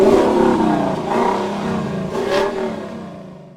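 A Lexus LC500 coupe's engine revving hard close by, a loud throaty rise that surges again midway before easing off and fading toward the end.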